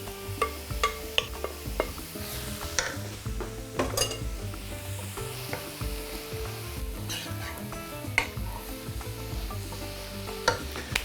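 Cabbage added to softened carrots sizzling in a pan, stirred with a utensil that knocks and scrapes against the pan in irregular clanks over a steady frying hiss.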